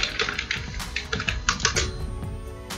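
Quick keystrokes on a computer keyboard while calling up a file shortcut in a code editor, a close, irregular run of crisp clicks.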